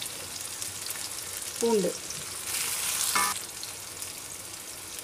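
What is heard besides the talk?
mustard seeds, onion and curry leaves frying in oil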